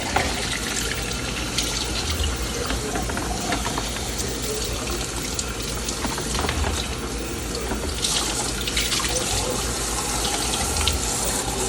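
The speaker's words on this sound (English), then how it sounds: "I'm just going to rinse it off really good. Down in the cavity." Tap water runs steadily into a kitchen sink while a turkey is rinsed inside and out before smoking, a continuous broadband splashing gush with small shifts as the stream hits the bird and cavity, close up and with no talk.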